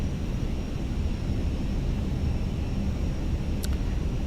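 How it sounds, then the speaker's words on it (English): Airbus A320 airliner engines in a flight simulator, a steady broadband roar holding at constant level throughout, with a brief high-pitched tick near the end. "The new engine sounds are really good."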